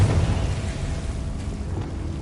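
A Confringo fire spell bursts in Hogwarts Legacy, a deep rumbling blast that rolls on as a sustained low roar for a couple of seconds, loud and close with no talking.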